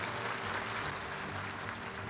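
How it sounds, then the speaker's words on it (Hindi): Faint, steady applause from a large audience at a university foundation day ceremony, continuous and distant for about two seconds. "तालियों की गड़गड़ाहट से हम स्वागत करते हैं।"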